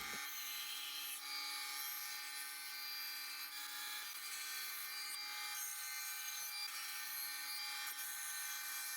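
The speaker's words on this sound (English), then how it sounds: "Let's go to the bandsaw and cut it up." A bandsaw cuts through a red cedar board for woodturning, giving a steady high-pitched whine and hiss that runs continuously and fairly quietly.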